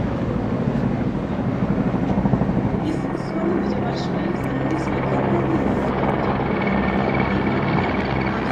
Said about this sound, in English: consisting of 1 Chinook and 2 Mi-17 helicopters in Vic formation